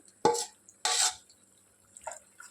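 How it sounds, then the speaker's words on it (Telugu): Mango pickle paste being stirred in a pan over a low flame, a few short wet scraping strokes separated by pauses, close and with no talk. "ఇప్పుడు బాగా మిక్స్ చేసుకోవాలి."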